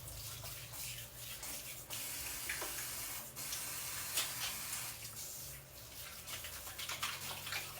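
Tap water running steadily into a kitchen sink during hand washing, a quiet continuous hiss and splash with small shifts as hands move under the stream.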